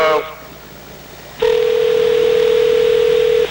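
Telephone call going unanswered: a brief electronic tone at the start, then after a short pause one long, loud, steady ringback tone that stops abruptly, with no voice over it.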